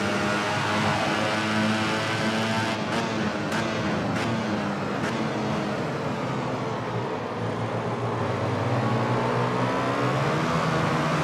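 Ducati racing motorcycle engine in the VR46 racing game, a continuous loud high-revving drone with several sharp gear-shift breaks, pitch sweeping down then climbing again as the bike brakes and accelerates.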